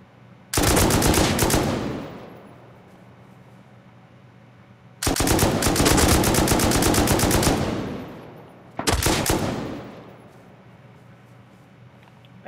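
LMG machine gun in the console version of the video game Rust, three long bursts of rapid automatic fire, loud and close, separated by quieter pauses.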